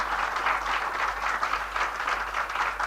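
Audience applause greeting Monika Maurya of the UNICEF team at a college event, a steady crowd of clapping hands spread evenly across the moment without voices on top.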